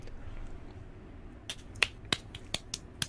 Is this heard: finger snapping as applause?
yes